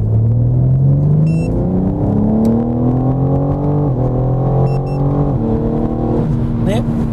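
A BMW M4 Competition G82 pulls hard out of a slow section, its engine loud and close as it climbs through the revs. A brief dip marks each upshift, then the rising drone resumes, with no talk over it.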